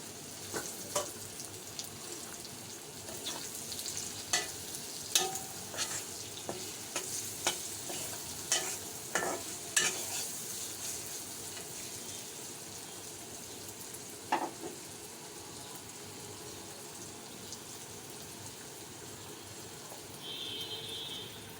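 Small fish hit hot oil with frying onions, crackling in a steady sizzle broken by sharp spatter pops and occasional stirring clatter, loud at first and easing toward a quieter, even fry.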